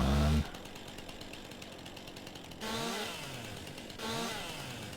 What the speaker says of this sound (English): So I'm using this lumberjack mod that's supposed to allow you to take out stumps with the chainsaw.